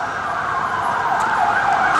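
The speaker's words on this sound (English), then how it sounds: "It's a police car." A police car siren wails steadily and fairly loudly, its tone sliding continuously over road noise with no talking.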